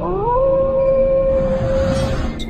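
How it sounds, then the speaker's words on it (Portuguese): A single long, drawn-out howl rising then holding steady, loud and close, with a low rumbling background beneath it. "Atente-se com uivos"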